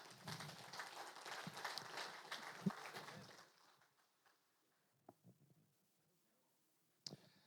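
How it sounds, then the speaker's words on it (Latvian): Applause and scattered cheering from a church men's-evening audience in Ogre welcome a guest speaker, fairly steady for about three seconds before fading to sparse claps and a few brief knocks. "Ar aplausiem sagaidīsim Nemo."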